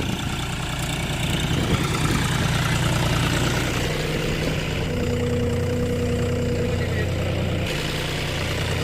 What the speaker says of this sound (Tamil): ஜாண்டீர் 5050D 50 HP டிராக்டர் பார்த்தீங்கன்னா 5 கலப்பை போட்டு யூஸ் பண்ணிகிட்ருக்கு